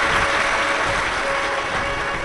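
An audience at a Shiv Mahapuran religious discourse gives the host families a loud, dense round of applause, steady clapping from many hands filling the space without a break.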